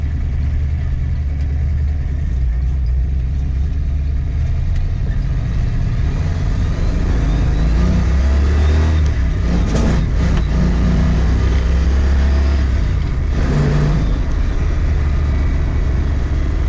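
A 1966 Mustang with a Blueprint 347 stroker engine drives steadily, its low engine rumble and road noise continuous and close throughout, with a brief swell in the middle.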